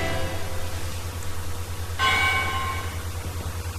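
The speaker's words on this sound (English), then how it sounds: "And here goes the bell." A single ringing bell starts a boxing fight, struck once about halfway through and sustaining with a bright metallic decay over a steady low background hum.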